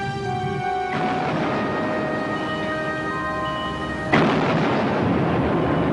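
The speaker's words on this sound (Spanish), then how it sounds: "Los cañones del Penguin acabaron rápidamente con este navío." Naval cannon fire from the German raider Penguin booms out as a heavy blast in the opening second, with a second deep report rolling in near the end, both over sustained low rumbling.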